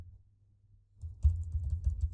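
Keystrokes on a computer keyboard entering text into a spreadsheet, a quiet burst of soft, irregular taps that begins after a near-silent moment and continues at close range.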